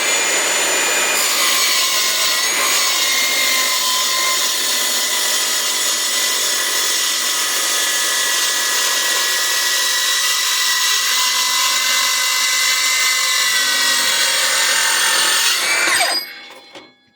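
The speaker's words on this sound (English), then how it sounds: "back to the Milwaukee with the metal cutting blade" A Milwaukee saw fitted with a metal-cutting blade cuts steadily and loudly for about fifteen seconds, a harsh continuous grinding whine that winds down abruptly at the end.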